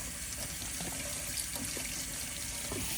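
Hot water runs steadily from a tap into a sink during cleaning, a continuous broadband splashing rush with no talk over it.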